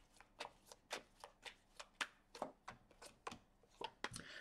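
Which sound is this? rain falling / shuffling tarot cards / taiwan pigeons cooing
shuffling tarot cards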